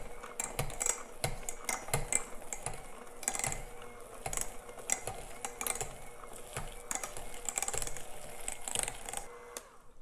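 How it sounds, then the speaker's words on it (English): A hand mixer mashes bananas for banana bread in a bowl, giving a steady, quiet mechanical whirring with constant clicking and clattering against the bowl and no talking. "I'm just going to use this hand mixer to help mash up these bananas."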